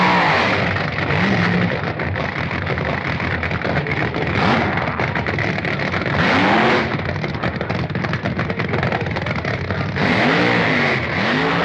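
Vintage drag racing cars in an elimination round roar as they accelerate, loud crackling engine blasts with repeated rising revs and gear changes, continuous and close throughout.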